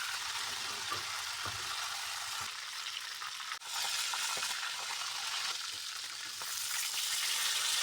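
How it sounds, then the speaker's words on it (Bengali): Chicken pieces fry in hot oil in a wok, a loud dense sizzle that holds steady throughout with a brief dip midway, with no talking. "তেল গরম হলে মাংসগুলোকে ভাজা শুরু করলাম।"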